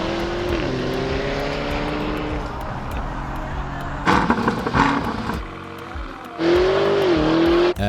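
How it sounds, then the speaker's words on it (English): Supercars drag racing down an airport airstrip, engines roaring steadily at a distance with rising revs and a loud surge as a car passes near, continuous outdoor motor noise throughout. "we made a spontaneous stop at an airport for some drag races on the airstrip"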